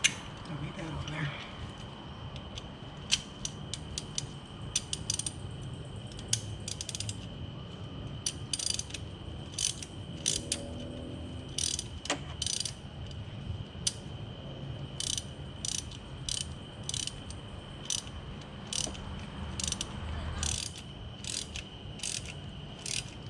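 A hand ratchet turning over an R32 GTR engine during a spark plug check, heard as rapid bursts of clicks repeated many times at close range over a faint background hum.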